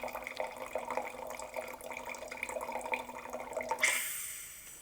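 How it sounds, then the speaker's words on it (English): Wine trickles and drips from a Coravin wine preserver into a glass, a soft, steady liquid pour that swells into a brighter splash near the end, heard alone without talk. "release it, and out drops the wine"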